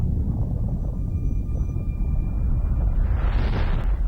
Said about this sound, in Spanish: y madre explosión